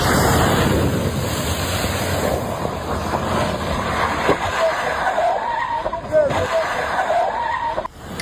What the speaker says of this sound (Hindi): गाड़ी निकलती और जाकर पलट जाती है।